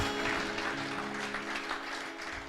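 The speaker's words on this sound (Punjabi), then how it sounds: "ਜ਼ੋਰਦਾਰ ਤਾੜੀ ਵਜਾਈਏ ਲਾਰਡ ਦੇ ਲਈ।" A church congregation claps loudly for the Lord during a pastor's sermon, a dense, sustained burst of applause that fades slightly toward the end, with no speech over it.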